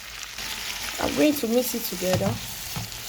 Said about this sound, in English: I'm going to place the sweet pepper, different color, and I'm going to mix it together.